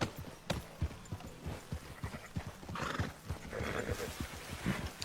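Horse hooves clip-clop in a steady rhythm while a horse whinnies in the video game Red Dead Redemption 2, with game-like ambience underneath.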